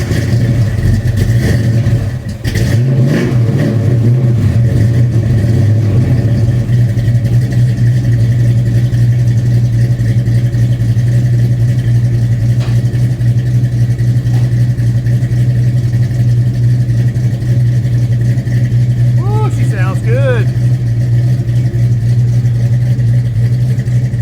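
A Fox Body Mustang fitted with a 2.5-inch Flowmaster American Thunder exhaust cranks over, then settles into a steady, deep idle that drones evenly and loudly nearby.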